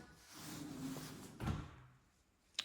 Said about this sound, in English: you've got your soft close cabinets and drawers